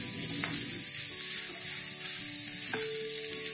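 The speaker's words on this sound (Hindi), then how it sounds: "इस तरह से दबाते हुए भूनना है।" Veg seekh kabab mixture with a little turmeric being pressed and fried in a pan, sizzling steadily with a few clinks and scrapes of a spatula against the pan, close and fairly loud, no voices.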